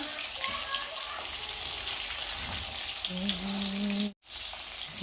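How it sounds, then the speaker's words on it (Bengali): Hilsa fish pieces frying in oil, a strong continuous sizzle close by, with faint voices and brief tonal sounds in the background and a short break near the end. "দেখতে পাচ্ছ এখন মাছ ভাজছে মা"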